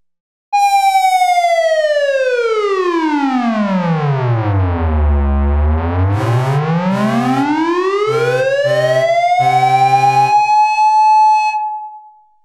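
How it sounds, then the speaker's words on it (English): A loud siren from an ARP 2600 synthesizer, a truck siren patch with horn, sweeps down in pitch and then back up, with choppy horn-like blasts cutting in near the end before it stops. "What we had going on there was a siren effect"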